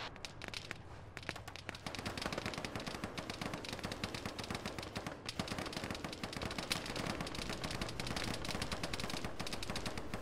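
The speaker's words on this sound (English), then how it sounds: "A lot of fire come from that west bunker." Dense, continuous gunfire from an enemy bunker in an Arma battle, rapid machine-gun bursts and overlapping shots filling the whole stretch at a fairly distant, steady intensity.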